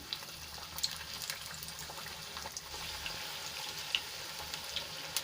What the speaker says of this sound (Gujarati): તેલ પણ આપણું ગરમ થઈ ગયું છે તો હવે આપણે પૂરી એડ કરી લઈશું